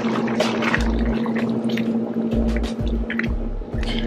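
Sauce with sugar and all-purpose seasoning stirred in a crockpot for cheesy baked ziti with turkey sausage, giving close, wet squishing and sloshing with soft scraping, steady and unbroken, under a faint constant hum.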